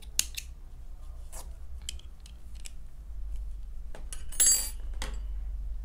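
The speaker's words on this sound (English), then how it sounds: "then you'll chain one and cut your yarn" Scissors snip through crochet yarn in several quick, crisp cuts spread across a quiet room with a low steady hum beneath, and one louder cluster of snips near the end.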